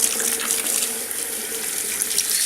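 Tap water pours steadily into a sink while potatoes are rinsed, a close, continuous splashing hiss with no voices.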